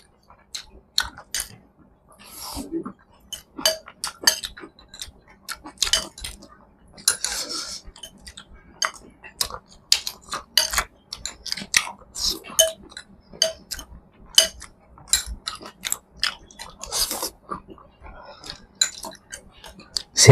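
Someone eats sabudana, mango and pineapple with a spoon, producing close, wet chewing and squishing along with frequent sharp spoon clinks against a dish in an irregular rhythm.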